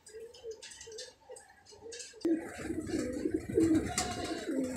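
A teddy pigeon, one of a male and female breeder pair, coos in soft repeated rounds close by, joined midway by louder rustling and clattering.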